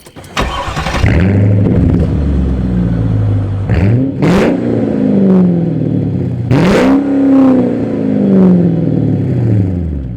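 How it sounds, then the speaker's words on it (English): A Mercedes-AMG car's exhaust revs hard and loud up close, with several rising and falling throttle blips across a steady rumbling idle, no talking. "Ooh, the exhaust."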